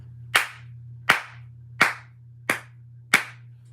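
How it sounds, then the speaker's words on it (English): Five sharp hand claps ring out alone at a slow, slightly uneven pace, each a crisp slap with a short tail, over a steady low hum in a quiet room. "I'm just clapping"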